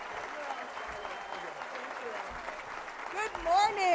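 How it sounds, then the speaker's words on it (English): Applause from a seated crowd at a Democratic Party breakfast as a senator from Illinois is introduced, steady clapping throughout with voices and cheers rising over it near the end. "Stand up and give a big round of applause for the next senator from the state of Illinois,"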